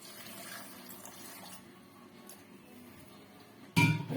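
Water is poured into a mixer jar holding grated coconut, curry leaves, dried red chillies, coriander leaves and gram for chutney: a faint trickle first, then a sudden loud splash at the very end.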